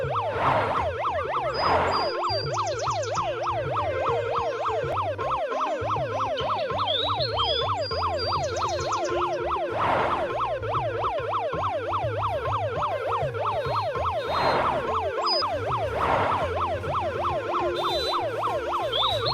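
An ambulance siren in a cartoon wails in a continuous rising-and-falling loop, loud and close, running unbroken with no voices over it.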